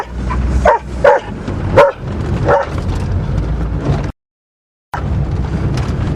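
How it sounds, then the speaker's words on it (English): A dog barks outdoors on a farm, several sharp loud woofs in an uneven burst over a rumbling idling background, then a brief gap of silence before the background resumes. "Oh, that stupid dog."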